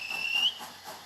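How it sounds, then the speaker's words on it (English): A train guard's whistle gives one shrill, steady blast of about half a second, fairly loud and clear, then fades into quiet background hum. "At last, the guard blew his whistle."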